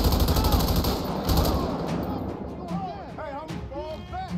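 Rapid automatic gunfire in a GTA 5 police mod during a night raid on a favela rattles loud and dense at first, then thins into scattered shots as voices and other game sounds rise near the end.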